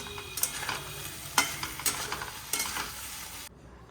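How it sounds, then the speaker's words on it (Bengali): Prawns coated in salt and turmeric sauté with spices in a pan: sizzling under a handful of loud utensil scrapes and clatters, then an abrupt cutoff near the end. "চিংড়ি মাছ লবণ হলুদ মাখিয়ে রেখে দিয়েছি মশলার সঙ্গেই ভালো করে কষিয়ে নেব এখন"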